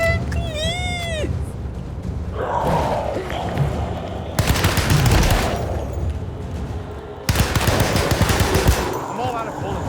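Gunfire in the horror video game Alone in the Dark: bursts of rapid, loud machine-gun-like shots with heavy thuds, broken by short pauses. A voice speaks over them at the start.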